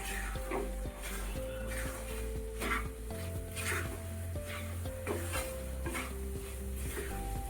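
Grated almonds being stirred into flour roasting in a pan for Gujarati sukhdi, a steady soft sizzle under repeated scraping and clinking of a spoon against the metal pan.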